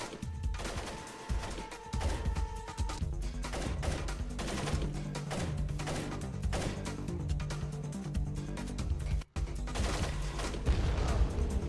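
Dense, busy gunfire and impacts fill a Splinter Cell video game scene, with repeated sharp shots over layered game noise and a brief dropout near the end.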